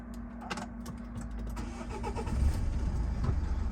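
A Renault Koleos 2.0 dCi diesel with 4WD and manual gearbox cranks briefly and starts, settling into a steady, close mid-pitched idle.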